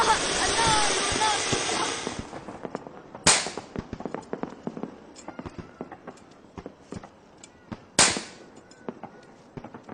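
Firecrackers bursting on a Diwali night, with a long crackling hiss for the first few seconds, then scattered sharp pops and two loud bangs. Voices can be heard among the bursts.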